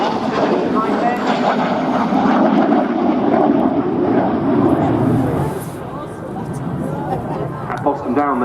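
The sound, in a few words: French Air Force Alpha Jet rolling on runway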